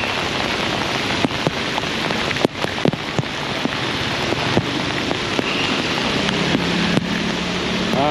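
Heavy rain pours steadily onto a Saigon street in front of the city theatre, a dense, loud hiss with scattered sharper drops and splashes, mixed with faint wind and a low distant hum.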